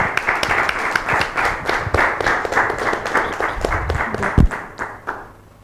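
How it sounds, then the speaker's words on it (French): A talk-show studio audience claps loudly to welcome a guest, with dense, sustained applause and some sharp individual claps standing out, before it fades near the end. "On applaudit très fort pour la recevoir."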